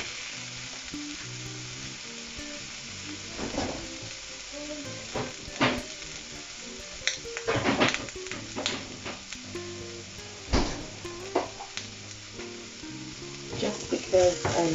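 Garlic sizzles in hot sesame seed oil in a pan, a steady close frying hiss broken by sharper crackling bursts and stirring scrapes, with no voices.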